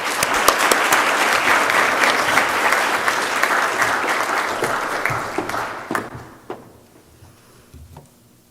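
An audience at a university academic excellence awards ceremony welcomes a speaker with sustained clapping that fades out after about six seconds, leaving scattered claps and a quiet room.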